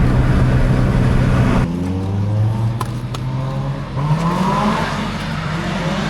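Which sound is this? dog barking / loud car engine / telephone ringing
loud car engine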